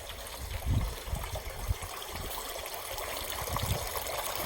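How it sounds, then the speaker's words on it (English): A garden water fountain bubbles and trickles in a continuous, soft stream, faint and steady with small gurgling surges and no voices. "There's even bubbles in the fountain."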